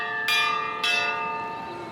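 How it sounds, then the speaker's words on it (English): Two loud bell strikes ring out in the video game Pillars of Eternity II, the second about half a second after the first, each with a long shimmering tone that decays slowly with no voices over it. "Who's rung the bell and why?"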